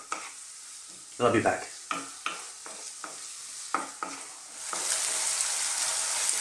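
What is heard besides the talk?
food sweating and sizzling in a pan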